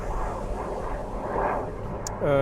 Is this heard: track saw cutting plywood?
no